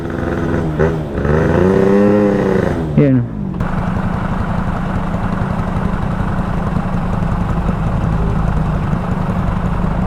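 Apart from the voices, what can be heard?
scooter engine revving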